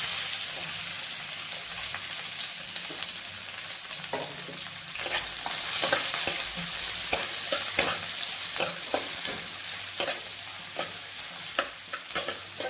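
Garlic and onion fry in oil in a pan with a steady sizzle, overlaid by repeated scraping stirs that grow more frequent in the second half, close by and without talk.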